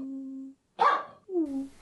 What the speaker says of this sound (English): I play with my dog.